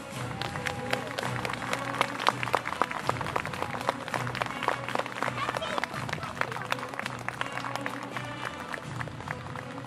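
An outdoor crowd at a military show at Modlin Fortress applauds for soldiers, with uneven, choppy clapping and distinct individual claps, and voices and movement mixed underneath.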